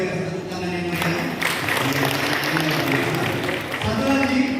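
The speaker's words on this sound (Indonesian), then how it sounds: "tepuk tangan yang meriah" Applause at a community family-planning event in a hall, a sustained wash of clapping from a crowd with voices and background chatter mixed in throughout.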